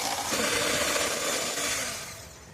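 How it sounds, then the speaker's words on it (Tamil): An electric blender runs through omelette batter with a steady, loud whirring drone from start to finish, easing off a little near the end, with no talking. "இந்த பிளெண்டரை இப்படி எடுத்து ஆன் பண்ணிக்கோங்க."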